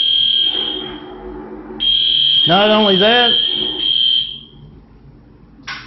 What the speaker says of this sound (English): Set off that fire alarm on Easter to terrorize a man in a wheelchair.